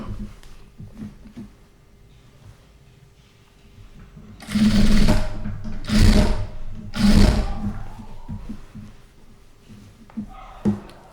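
A sewing machine stitching a hand-work blouse runs in three loud, close bursts of rapid whirring with short pauses between, surrounded by quieter handling noises.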